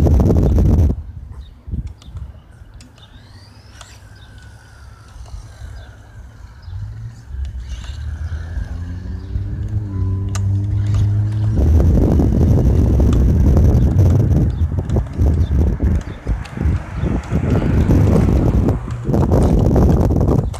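A Traxxas Rustler SCT8 RC truck with a Hobbywing SCT8 ESC on 3S LiPo runs at full throttle, its motor whine rising in pitch before settling into a loud, steady roar mixed with wind buffeting on the microphone.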